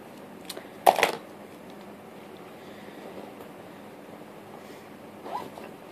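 A purse's zipper pocket is pulled open in one quick, close rasp, followed by faint handling rustles in a quiet room.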